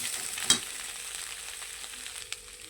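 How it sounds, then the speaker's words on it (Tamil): Grated coconut is stirred into frying fish in a pan, giving a faint steady sizzle with a sharp scrape of the spoon early on and another softer tap near the end, without speech. "தேங்காயும் போட்டு கிளறிட்டு"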